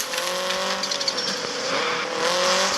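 A Subaru Impreza rally car in the CPM2 driving game holds a steady, high engine drone through a lap, with a faint tire squeal and small gear shifts, loud and close with no talking.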